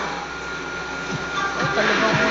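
A candy factory vacuum cooker, which boils sugar at about 130 degrees centigrade, gives off a continuous mechanical drone with a steady whine, dull thumps and a hiss that rises toward the end.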